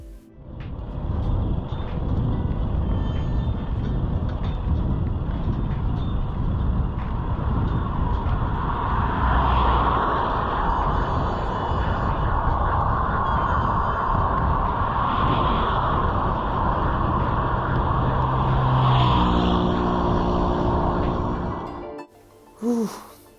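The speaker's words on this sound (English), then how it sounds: "you will see a lot of cars riding by and past me" Continuous roar of cars passing on a road, heard by a small motorbike rider in Thailand: steady loud traffic and engine noise with wind rush throughout, dropping away abruptly near the end.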